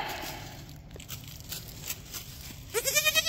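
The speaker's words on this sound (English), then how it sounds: "Hey, little baby goat." A baby goat bleats in a rapid wavering cry near the end, loud and close, after quieter rustling and soft chewing or crunching sounds.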